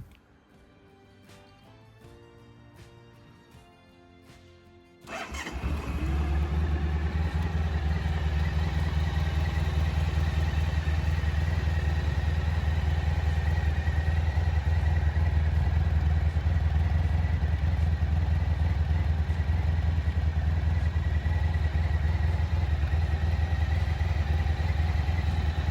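Honda ST1100 Pan European motorcycle engine cranking briefly, catching after a few seconds, then settling into a steady, loud, close idle that holds for the rest of the clip.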